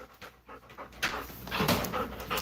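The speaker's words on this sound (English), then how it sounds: "See, my dog tries to sneak outside, to run outside." A dog by the door of a house pants in short, rapid breaths that are close but fairly soft. The panting grows a little stronger partway through, and no one speaks.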